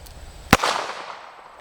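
A single sharp shot from an S333 Thunderstruck revolver chambered in .22 magnum, a short loud crack with a brief ringing tail, heard alone.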